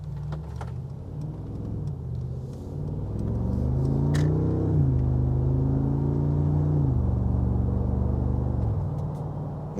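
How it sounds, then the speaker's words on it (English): A 2019 Mercedes-Benz G63 V8 rumbles low and throaty, rising in a strong rev and holding before easing back, heard from close by with no talk. "Such a low, hard, grinding, throaty V8 sound coming out of this."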